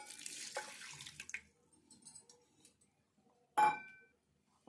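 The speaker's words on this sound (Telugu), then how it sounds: "కొన్ని వాటర్ వేసుకుందాము." Water poured from a tap into a mixer jar holding potato uttapam batter ingredients, with a running splash early, a few light clinks, then a short louder gush near the end.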